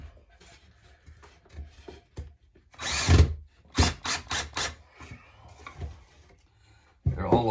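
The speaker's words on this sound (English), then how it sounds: "so I can snug them down until the drill stops" A cordless power drill drives screws into a wooden tiered tray, with several short whirring bursts in quick succession, each ending as the screw snugs down, close by and loud against quiet background handling.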